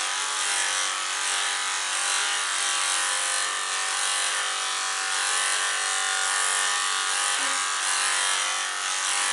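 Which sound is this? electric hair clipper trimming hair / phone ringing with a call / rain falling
electric hair clipper trimming hair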